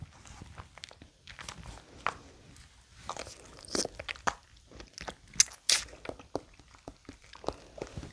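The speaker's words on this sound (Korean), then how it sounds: "수박바 젤리는 처음 먹어봤거든요" Watermelon-bar flavored jelly candy being chewed up close, with soft squishy bites and crunchy, wet mouth sounds in an irregular rhythm and no talking.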